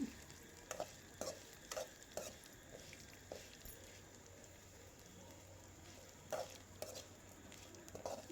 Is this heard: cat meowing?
no